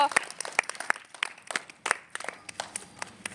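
Children in a classroom clap in an uneven burst of quick, sharp claps at close range, mixed with voices talking.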